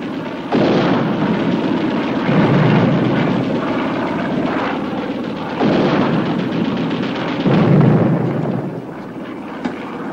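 Five-inch naval guns firing in a 1956 war film, a series of deep booming blasts with rumbling tails over a continuous roar, loud and dense.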